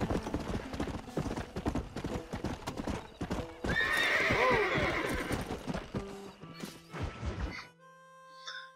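Horse hooves clip-clop in the Red Dead Redemption video game, with a loud whinny in the middle and a sharp crash near the end, set against busy game sounds.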